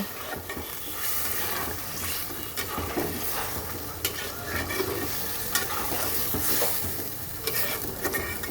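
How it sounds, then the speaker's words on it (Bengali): Masala for a mutton curry sizzles in hot oil in a pan while it is stirred, giving a steady, close frying hiss with intermittent scraping and stirring clatter throughout. "এখন এবার নেড়ে দেব আরও কিছুক্ষণ এটাকে কষাবো"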